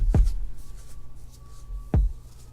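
A kick drum pattern sounds two deep, booming hits about two seconds apart, each thud sliding quickly down in pitch over a low steady hum, with no voices.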